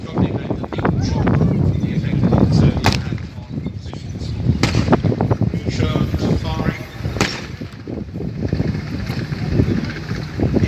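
Tank guns fire during a staged tank battle demonstration at Tankfest 2022, sharp reports cracking out several times over heavy outdoor wind and rumbling crowd noise.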